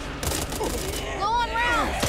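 Gunfire in the Back 4 Blood zombie shooter, bursts of shots and thuds mixed with ringing game effects, loud and close, with a voice shouting over the action.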